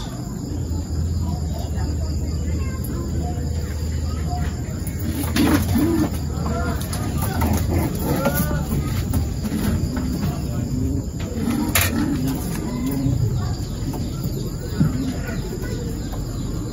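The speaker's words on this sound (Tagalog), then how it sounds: "Tingnan natin mga kalapatids." Pigeons cooing softly in a loft during a training session, low repeated coos over a constant insect-like hiss and faint background chatter of birds, steady and fairly close.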